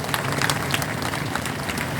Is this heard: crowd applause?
yes